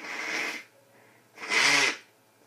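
A person sneezes twice close to the microphone, two sharp, breathy bursts separated by a short pause.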